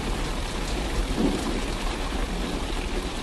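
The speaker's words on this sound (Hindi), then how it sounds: "कुछ ही देर में बारिश के साथ साथ ओले भी गिरने लगते हैं।" Heavy rain with hail pours down over farm fields as thunder rumbles; a steady, dense wash of falling water and ice fills the whole stretch, with a low rolling boom swelling briefly midway.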